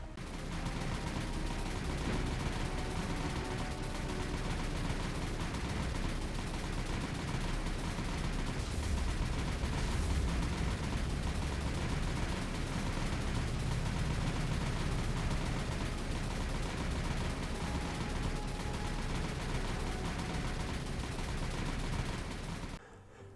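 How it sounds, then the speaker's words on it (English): Aircraft strafing gunfire on ships in the naval combat game War on the Sea, a dense, continuous rattle of automatic fire and impacts that stays loud and steady throughout, with no talk. "One more strafe should absolutely do this."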